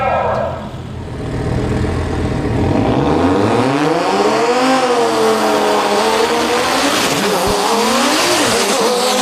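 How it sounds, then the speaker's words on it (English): An Audi drag racing car makes a pass at a drag racing event, its engine roaring loudly and climbing through rising, sweeping revs over several seconds as it accelerates away, with faint crowd noise beneath. "Audi making a pass down the right-hand side."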